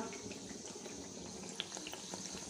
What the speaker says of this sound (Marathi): बाकीच्या पुऱ्या सुद्धा अशाच प्रकारे तळून रेडी करून घ्या